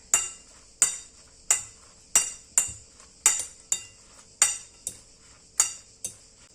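Whole eggs are stirred in a bowl with a utensil that strikes the side in sharp, ringing clinks, about ten of them at an even, steady pace.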